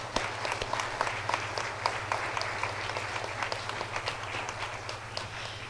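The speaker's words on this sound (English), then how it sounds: "this really deserves a big applause" An audience applauds at a conference closing ceremony, with steady, moderately distant clapping from a crowd over a low constant hum and no voices.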